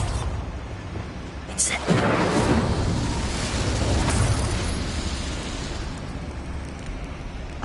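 A Bombarda spell exploding in Hogwarts Legacy: a sudden loud blast followed by a long, rumbling roar of debris that slowly fades, with a brief voice over the top.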